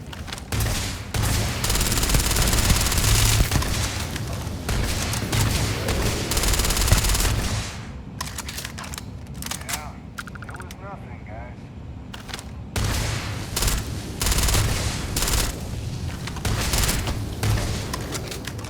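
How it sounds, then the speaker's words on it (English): Sarah fires on a worm in Starfield, with loud rapid bursts of gunfire and booms that pause briefly midway and then resume, mixed with a voice talking. "Sarah was shooting the shit out of the worm"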